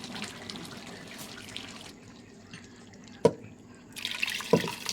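Water runs from a tap and splashes into a new pressure cooker, a steady trickle with a couple of sharp knocks and a louder gush near the end.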